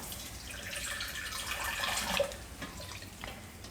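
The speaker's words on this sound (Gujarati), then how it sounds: "તો થોડુંક પાણી હજી આપણે નાખી દેવું" Water is poured into a simmering tomato paneer gravy, making a soft, continuous splashing trickle that swells briefly near the end, faint and close with no talking.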